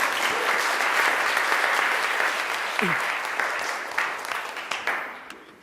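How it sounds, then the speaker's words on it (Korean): Audience applause welcoming a speaker to a corporate talk, a dense, continuous round of clapping from a full room that holds steady and then tapers off with scattered final claps. "큰 박수 부탁드립니다"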